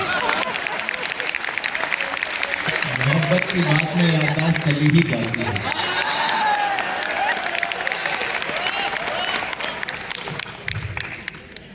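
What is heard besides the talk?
audience applause at poetry recital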